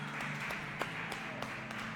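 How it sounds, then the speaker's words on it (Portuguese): A church congregation applauding together in a continuous patter of many hands clapping, steady and moderately loud over the whole moment. "Vamos aplaudir a palavra do Senhor com muita alegria"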